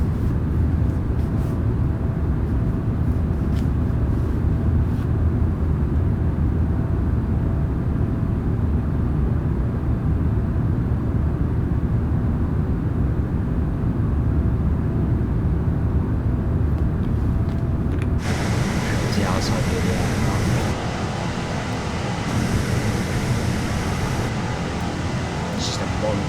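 A big airliner's engines in Microsoft Flight Simulator, a steady broadband roar running throughout at constant level, with a brighter hiss swelling in near the end.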